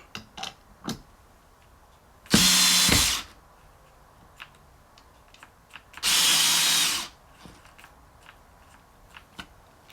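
A power drill whirs in two loud bursts of under a second each, separated by a few seconds of quiet clatter and small handling knocks while building DIY studio acoustic panels.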